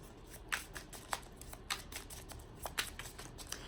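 Tarot cards shuffled by hand in short, crisp riffles, several separate flicks spaced irregularly, close up and quiet over a faint background hiss.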